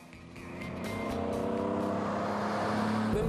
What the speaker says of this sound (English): Hearing the Weber carburetor moan as it sucks in air when you open it up gives him much more of a thrill